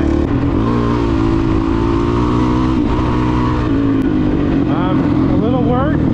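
A 450 motorcycle engine holds a loud, close, steady drone, then revs up in a few quick rising pulls near the end as the rider tries for a wheelie.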